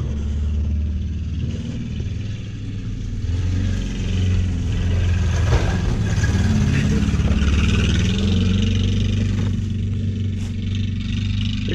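Engine of a 2003 Ford Focus revving steadily while drifting, a loud continuous low rumble that surges and holds throughout, with tire and wind noise mixed in.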